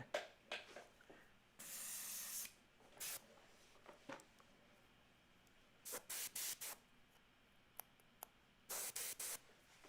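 Airbrush spraying paint for fine detail work, heard as short hissing bursts of varying length, one longer spray near the start and several quick clustered pulses later, fairly close with quiet pauses between.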